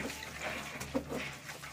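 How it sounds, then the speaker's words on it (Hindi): Clothes being hand-washed in water, with soft close sloshing and trickling, brief and fairly quiet. "मैं कपड़े धो रही हूँ आसिम रजा के"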